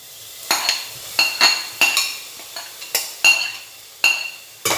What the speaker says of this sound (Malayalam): ഇതും കൂടി ഇട്ട് നന്നായിട്ടൊന്ന് മിക്സ് ചെയ്തെടുക്കാം.